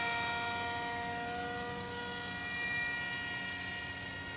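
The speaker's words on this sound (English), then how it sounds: "It's a really stable plane when you give it the chance." A Chinese J-20 RC model jet plane in flight gives a continuous high, tonal whine with several steady harmonics, holding at an even, moderate level throughout.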